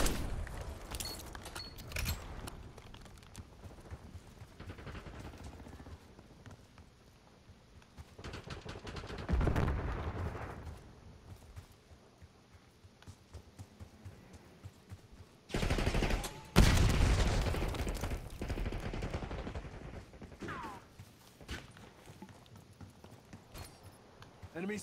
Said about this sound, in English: Of course, he shoots me.